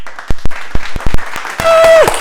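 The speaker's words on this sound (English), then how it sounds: "Last big clap." School assembly applause for the stars of the week: a few loud, separate claps close by, then a brief burst of crowd noise with a voice and a high squeal over it.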